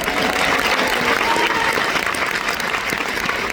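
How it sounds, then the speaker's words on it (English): Steady applause from a large audience of admitted UCLA students, a dense, continuous wash of clapping that holds at an even level from start to finish. "For that, I think you all deserve a round of applause."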